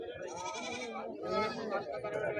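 A goat bleats at a busy weekly livestock market in Siddipet, Telangana: a loud, wavering, nasal cry sustained over a couple of seconds, close and continuous.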